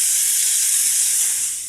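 Steady, bright hiss from a steam cleaner worked over a glass shower door to loosen soap scum, continuous and close for under two seconds, easing off slightly at the end with no voices.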